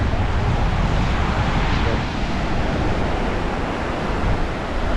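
Strong ocean waves crash on a beach, a loud continuous surf roar with wind noise, close and unbroken throughout.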